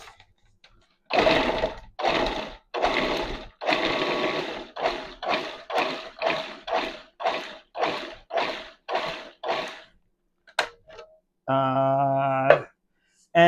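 Food processor pulsing sour cream and onion dip ingredients, about a dozen short loud whirring bursts in a steady rhythm, close and clear, followed by a longer continuous run with no talk.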